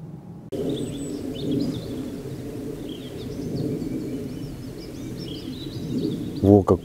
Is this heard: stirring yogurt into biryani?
no